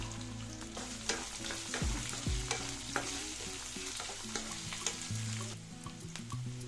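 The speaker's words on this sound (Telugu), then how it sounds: "ఇప్పుడు ఇవి వేగుతున్నాయి కదా" Sliced onions and green chilies fry in a pan as they are stirred, producing a soft, steady sizzle with repeated spatula scrapes and clinks, heard alone without speech.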